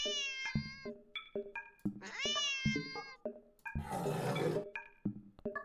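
A cat in a horror video game lets out repeated drawn-out meows and caterwauls, with a harsh noisy yowl in the middle, amid short clicking game sounds.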